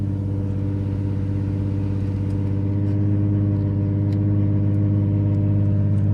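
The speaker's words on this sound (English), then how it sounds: "First test drive on the Z with everything." The Z car drives on its first test run, its engine humming in a steady, loud mid-pitched drone with a faint clatter running underneath, fairly constant throughout.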